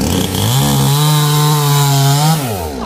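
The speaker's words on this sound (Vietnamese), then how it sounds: "Giờ ba có toàn cưa mấy cây gòn với mấy cây xoài ở bên đây nè." Chainsaw cutting kapok and mango trees in hot 37°C sun, a loud close steady whine that revs up, holds, then drops off near the end.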